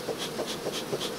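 Honeybees from a queenless colony buzz close around a beehive, with a pulsing, wavering drone that swells and fades in quick, regular beats.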